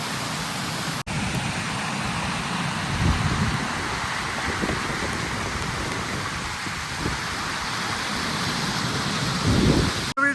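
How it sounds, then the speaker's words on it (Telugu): Steady rain pours down in a continuous hiss, with low rumbles of distant thunder rolling underneath. "వ్యూ పాయింట్ వర్షం పడుతుంది"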